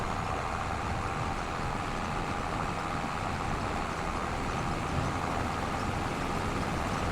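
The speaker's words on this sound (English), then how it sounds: "The old tractor's kind of struggling a little bit." An old tractor engine in Farming Simulator 25 drones on steadily and loudly, a continuous labouring rumble with no talk over it.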